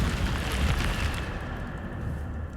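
Incendio fire spell cast in Hogwarts Legacy, a burst of roaring flame with low rumbling booms that fade into a steady crackling hiss, loud and continuous.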